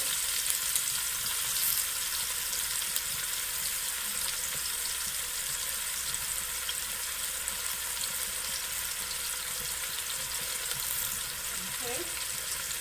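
Chopped onion, scallion and garlic saute in a hot pan for stewed coconut fish and shrimp, giving a continuous, even sizzle that hisses steadily from start to finish with a faint clink near the end.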